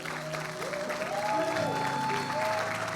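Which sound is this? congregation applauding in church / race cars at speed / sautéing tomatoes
congregation applauding in church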